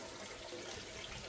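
Water from a koi pond is siphoned off through a hose, making a faint, steady rushing and trickling flow close by, with no talk.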